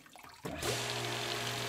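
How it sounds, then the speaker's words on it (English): A water pump switches on and begins pumping, the quiet room giving way to a sudden rush of flowing water with a steady motor hum underneath, loud and continuous. "we'll see here that our pump begins to go and we're pumping water"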